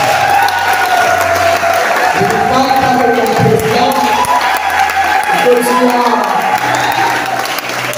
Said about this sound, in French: Donne-lui des acclamations.